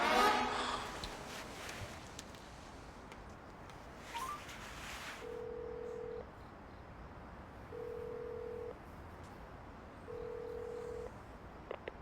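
A phone call is placed, and a faint ringback tone repeats three times at steady intervals over a quiet background hiss.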